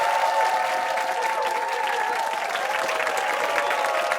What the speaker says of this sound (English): Nice round of applause, everybody.